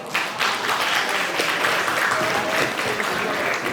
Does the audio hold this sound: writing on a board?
no